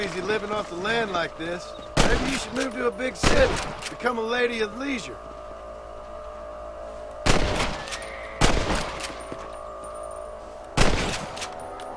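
Gunfire at a shooting range in the video game Red Dead Redemption: five sharp, loud shots spaced a second or more apart, following a stretch of talking at the start.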